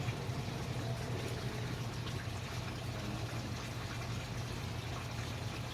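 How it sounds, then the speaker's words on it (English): Water poured over rose cuttings soaking soilless media in a mini greenhouse, a steady soft continuous splashing and trickling with a low hum underneath and no pauses. "water your cuttings. Soak the soilless media."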